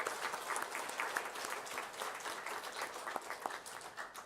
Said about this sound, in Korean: 우리 환영의 박수 한번 할까요?